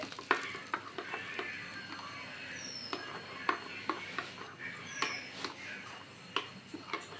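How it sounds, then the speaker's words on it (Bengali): A spatula stirs and mixes sizzling tempering for bun dosa in a pan, with a steady frying hiss under repeated sharp scraping ticks that come at an irregular rhythm. "দেখুন ভালো করে নেড়ে নিচ্ছি মিশিয়ে নিচ্ছি ভালো করে ফোড়ন ফোড়নটা"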